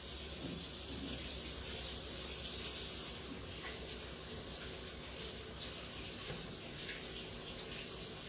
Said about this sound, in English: Just gonna wash my hands off.